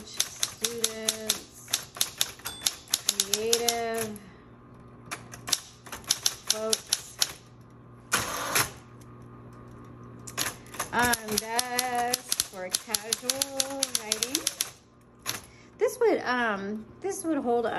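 Smith Corona Coronet Auto 12 typewriter being typed on, with rapid bursts of key strikes, clacks and a carriage return, while a person talks over much of the typing.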